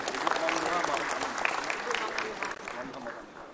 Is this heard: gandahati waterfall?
no